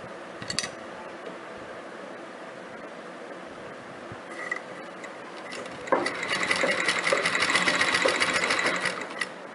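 A sewing machine stitching blouse fabric at stitch length setting 3 runs quietly with light mechanical ticks at first, then hums into a louder, steady rapid stitching rhythm for the last few seconds, with no talking.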